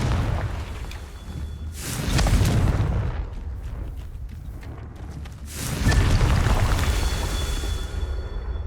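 Two heavy, rumbling blasts from the Confringo blasting spell in Hogwarts Legacy, each swelling into a long booming roar that trails off, with faint chimes in between.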